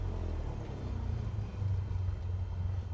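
A single-engine light aircraft sits at run-up idle in Microsoft Flight Simulator 2024, its engine a steady low rumbling drone with a faint pulsing throb, even and unbroken throughout with no talk.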